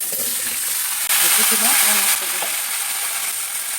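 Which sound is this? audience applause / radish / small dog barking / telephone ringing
radish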